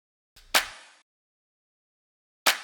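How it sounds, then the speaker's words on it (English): A dry, sharp clap sample hits twice, the first with a short tail and a soft lead-in, the second alone after a pause. "Actually, it's more like a clap. That's a dry clap."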